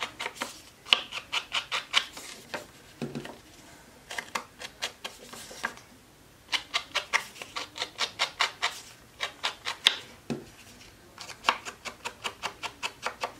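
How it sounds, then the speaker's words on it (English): A kitchen sponge dabbed with Bermuda Bay ink onto pattern paper makes quick rhythmic scratchy pats in steady bursts with brief pauses, close-up and soft, with no voices. "So I'm going to go ahead and sponge my pattern paper"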